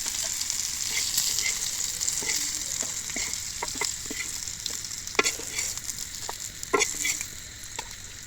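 Seven pieces of viral meen fish frying in a pan, giving a steady sizzle with scattered crackles and pops and occasional scraping stirs, close and moderately loud with no talking.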